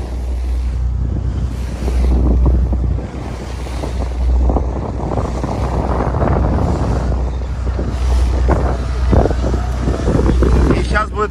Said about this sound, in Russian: Тут очень ветрено